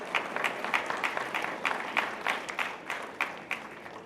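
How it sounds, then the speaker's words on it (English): Graduates applaud at a graduation ceremony, crowd clapping soft and somewhat distant, with several hands nearby beating out a fairly regular rhythm above the steady patter. "Give yourselves a round of applause"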